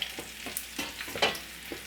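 Chicken fries and sizzles in a pan for a Chicken Majboos dish, a steady close hiss of hot oil broken by soft scraping bumps as the pieces are stirred.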